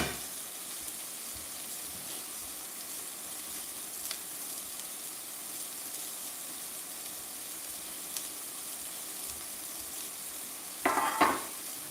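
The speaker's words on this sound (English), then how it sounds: "Give it a quick stir." Shrimp and vegetable stir fry sizzling quietly in a pan, a soft continuous hiss with faint scrapes, then a short louder clatter of stirring near the end; no voices.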